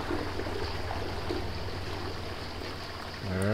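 Shower water running in a steady soft hiss at moderate distance, no voices, with a brief louder swell at the very end.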